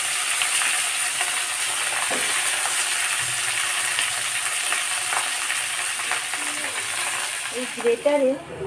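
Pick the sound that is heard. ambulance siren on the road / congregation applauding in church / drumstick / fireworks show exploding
drumstick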